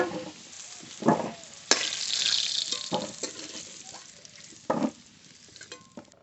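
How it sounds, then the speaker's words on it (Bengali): Cut, washed potatoes with salt and turmeric fry in oil, giving a close, moderate sizzle. Stirring scrapes and clatters break in at irregular intervals. "আলু খুব ভালো করে ভেজে নেব"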